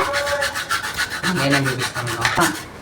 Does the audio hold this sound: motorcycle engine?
no